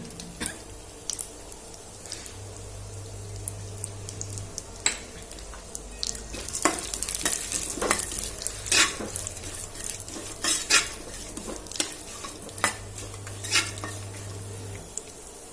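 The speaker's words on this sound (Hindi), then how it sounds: "तो गरी हमारी भुन गई है" Dried coconut being roasted in ghee in a kadhai, with repeated scraping and clinking of a spoon against the pan under a soft, steady frying hiss, close and moderately quiet.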